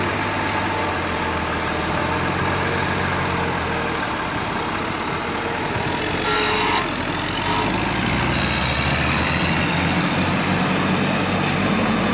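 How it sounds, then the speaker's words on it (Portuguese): A truck is towed up a steep dirt hill at Serra Pelada, its engine roaring loud and continuous with a heavy, straining rumble and gritty broadband noise throughout. "o caminhão está sendo rebocado agora para poder subir essa ladeira"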